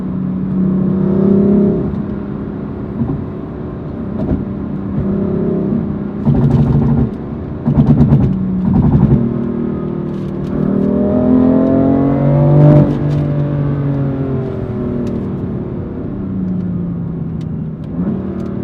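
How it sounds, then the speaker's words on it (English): A BMW M4 Competition with M Performance parts and a louder, deeper exhaust revs up and settles repeatedly, close and loud, with brief sharp pops between the rising and falling engine tones and no talking. "especially when you lift off, you hear more crackles and burbles on the M4."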